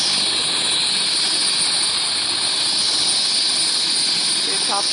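A loud, steady roar of a helicopter engine as it comes in fills the air, constant and close, with a faint voice barely audible underneath.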